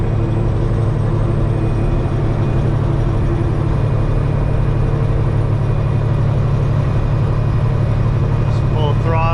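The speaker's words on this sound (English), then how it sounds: "I want to see how much boost on max throttle I get with the new turbo" A truck engine with a new turbo held at full throttle, a loud, steady low drone that runs unbroken throughout, close to the listener.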